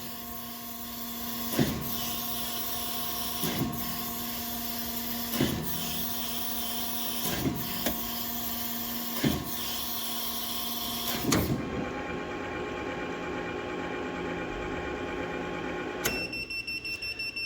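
Willis automatic surface grinder runs a full saddle stroke, a steady mechanical hum and whine with regular clunks every couple of seconds, then a shift to a quieter, smoother drone and a final click as it winds down.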